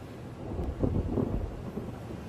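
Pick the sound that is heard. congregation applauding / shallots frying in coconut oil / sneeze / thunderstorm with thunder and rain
thunderstorm with thunder and rain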